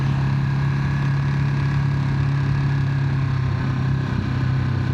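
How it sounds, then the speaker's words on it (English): Steady, close motorcycle engine drone from a 2025 Ducati Monster, a continuous low raspy exhaust note that holds an even pitch throughout with no talk over it. "This has got a really aggressive exhaust, really natural, raspy sound to it."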